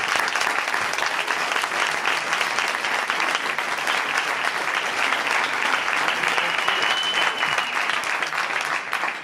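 Sustained applause from an audience at a film festival awards ceremony, loud, dense and steady for about nine seconds with no talking over it.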